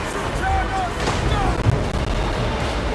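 Artillery fire on a Tomb Kings battlefield in Total War Warhammer 2, a run of booming blasts and crashes over three seconds, with a voice talking under the barrage.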